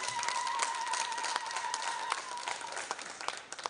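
Applause from an audience at a strategy launch event, steady dense hand clapping from many people that holds throughout and thins slightly at the end, with a faint tone in the background.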